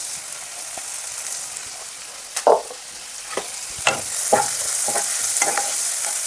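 Sliced onions and curry leaves fry in hot oil in a pan, giving a steady close sizzle broken by several sharp scrapes and clinks of a spoon stirring against the metal.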